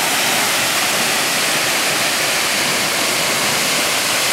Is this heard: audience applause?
no